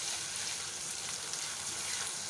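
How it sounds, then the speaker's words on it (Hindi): Ginger, garlic, green chili, fennel, coriander, cumin and two bay leaves frying in a pan for an Indian vegetarian dinner, with a steady, soft sizzle that continues evenly without pause. "हरी मिर्ची, सौंफ, धनिया, ज़ीरा, 2 तेज़पत्ते डाल के, अदरक लहसुन डाल के मैं अच्छे से भून रही हूँ"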